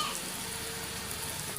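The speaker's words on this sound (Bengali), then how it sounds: "ধনিয়ার গুঁড়া, হলুদ গুঁড়া, মরিচের গুঁড়া, লবণ দিয়ে এখন আমি মশলাটা একটু কষায় নিব" Ground coriander, turmeric, chili powder and salt sauté in a hot pan for a village-style rohu fish and taro curry, giving a steady, close, even sizzle with a soft frying hiss throughout and no speech.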